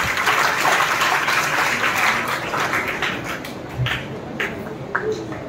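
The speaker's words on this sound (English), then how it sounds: "Round of applause once again for all of us." Applause from an audience at a college farewell event for the 2023 academic year, a dense, steady wash of clapping through the whole stretch, fairly loud and close, with a few sharper claps near the end.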